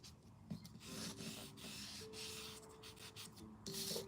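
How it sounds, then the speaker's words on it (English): Pastel being rubbed onto a handmade craft, a soft, dry, close scratching and rasping in short uneven strokes, with faint background tones. "this is actually just pastel that you just kind of rub on there."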